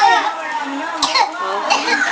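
A child coughs in two short bursts amid children's voices and chatter nearby.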